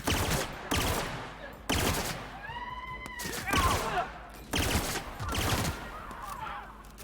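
Gunfire in the video game The Outer Worlds: several short bursts of rapid shots, loud and close, broken by pauses, with a game voice and players talking in the gaps.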